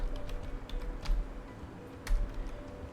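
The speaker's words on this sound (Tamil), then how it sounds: "சாட் ஜிபிடி சைடு பார்னு சொல்லி டைப் பண்ணுங்கள்" Keys tapped on a computer keyboard while typing a search into a web store: quick, light clicks in an irregular rhythm, faint and close, with no talk.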